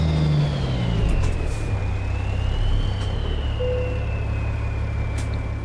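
A truck engine in American Truck Simulator drones loud and close, rising and falling slightly in pitch at steady revs with a faint whine riding above the low rumble.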